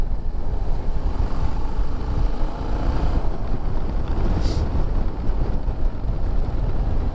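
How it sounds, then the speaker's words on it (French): A Yamaha Tracer 7 motorcycle accelerating on the road, engine roar buried under heavy, steady wind buffeting on the microphone throughout. "Un beau petit coup d'accélérateur."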